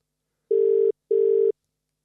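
A telephone rings for an incoming call, two even electronic ring bursts of about half a second each with a short gap between them, loud and clear against silence.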